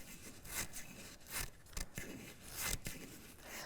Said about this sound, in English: So just keep cutting until you make that awesome fringe.